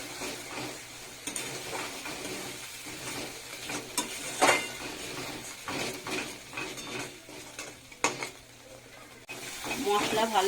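Spice masala with whisked yogurt frying in oil in a pan for palak paneer: a steady close sizzle broken by spatula scrapes and clinks against the pan, with no talk.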